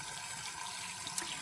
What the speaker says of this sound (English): I'm gonna give them a good water first.